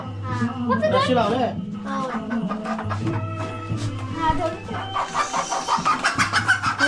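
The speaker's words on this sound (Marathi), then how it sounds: "त्याच्यात कोंबडी आहे" Chickens in a basket cluck and cackle close by amid people talking in a Ratnagiri village, with a steady hum underneath and a rapid series of clucks toward the end.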